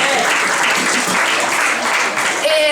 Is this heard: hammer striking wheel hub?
no